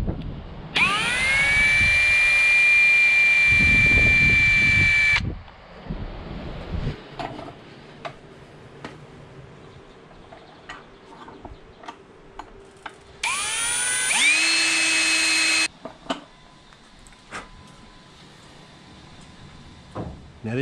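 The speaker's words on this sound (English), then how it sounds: "Drill that out, avoiding the finger." A power drill bores holes in a VRX Violence spoiler mount in two loud, high-pitched whining bursts of several seconds each, close up. Between them come quieter clicks and handling noises.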